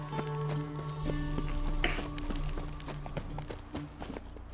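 Roach the horse trotting in The Witcher 3, hooves clip-clopping in a steady, regular rhythm at close range over a low game backdrop, with no talk.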